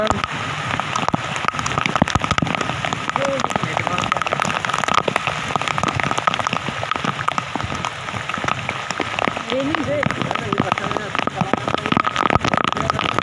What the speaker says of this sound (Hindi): बरसात है और तेज बरसात है